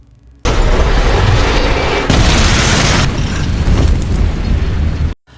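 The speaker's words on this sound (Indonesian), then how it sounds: "mobil tersebut meledak" A car falls down an elevator shaft and explodes in an action film: one loud, sustained blast with roaring, crackling debris that holds for about five seconds, then cuts off abruptly. No voices.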